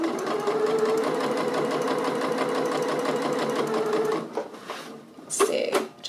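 A sewing machine stitches an elastic waistband casing on a dress in a steady close hum for about four seconds, then stops, leaving a few faint handling sounds.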